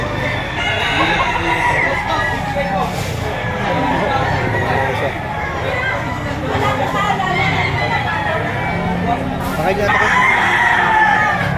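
Roosters crowing and hens clucking at a chicken auction in Lipa, Batangas, steady and dense among a chattering crowd, with voices talking throughout.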